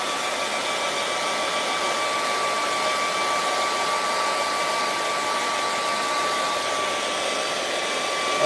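A hair dryer blows steadily on wet acrylic paint of snowy mountains, a constant close whooshing hum with a thin high whine, unbroken for the whole stretch with no talk.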